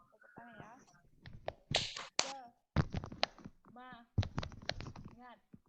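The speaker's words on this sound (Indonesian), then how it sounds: "Tepuk tangan ya" Several sharp hand claps ring out in bursts, mixed with short shouted calls, from a group at a school gathering session.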